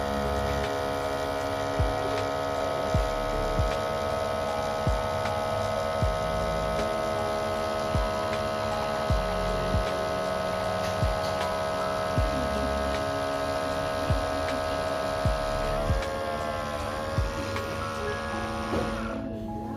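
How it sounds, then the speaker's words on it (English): A BREVOY portable espresso machine's pump runs steadily during an espresso extraction, a constant loud electric hum with a faint regular pulsing throb, heard alone without talk. "Now let's check out the pump in action."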